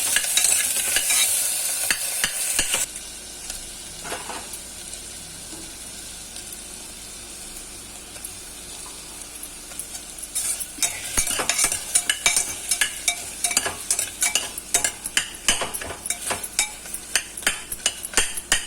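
Onion and tomato fry in a pan for chutney, with a loud hiss at first and then a quieter sizzle, broken by repeated scraping and clattering strokes of a spoon as it is stirred.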